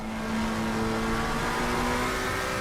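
A race car engine revs hard in a sim racing game at the Nurburgring, a sustained high whining drone with shifting tonal pitch, loud and continuous, with no talking.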